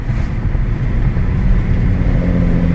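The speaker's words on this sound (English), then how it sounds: "Let's open that window so you can hear the turbo spool." Mercedes-Benz OM606 turbodiesel accelerating hard with the turbo spooling, a steady loud low-pitched diesel drone that holds throughout without a break.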